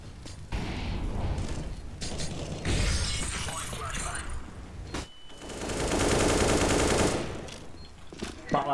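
Video game gunfire arrives in rapid bursts and sharp cracks with mechanical clatter, loud and close, swelling in a sustained burst near the end, with players talking over it.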